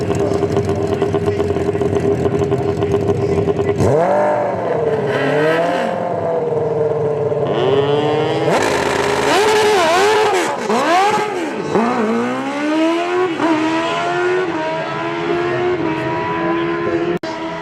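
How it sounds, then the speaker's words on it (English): A drag racing motorcycle at a drag strip revs hard, with rising and falling engine sweeps and repeated blips and gear changes over about eighteen seconds, loud and close throughout. "Motorcycle slipped the clutch too much."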